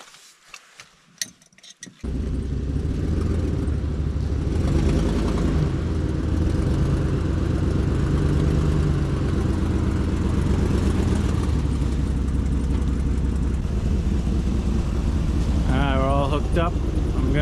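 A truck engine idles steadily and close by while jump-starting a broken tractor's battery, a continuous low rumble that starts after some brief clatter, with someone talking over it.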